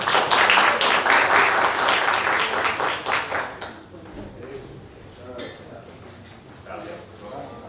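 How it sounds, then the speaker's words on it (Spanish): An audience at an online learning presentation gives dense applause that fades after a few seconds into scattered claps, quiet room noise and murmuring voices. "Por favor, otro fuerte aplauso para el Tony Ferguson que tenemos aquí."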